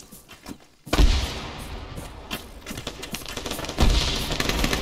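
Machine gun fire in the video game Arma 3 sounds as heavy, booming bursts and rolling rattles, loud and close, with repeated impacts piling up over a few seconds.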